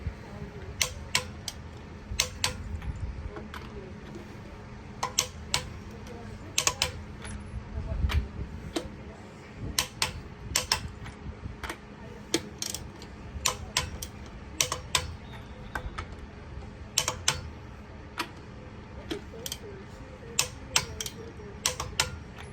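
Sharp, regularly spaced clicks from a torque wrench tightening lug nuts in a star pattern on a 2022 Toyota Tundra SR5 4WD during a rear brake job, ringing out close over a low garage rumble.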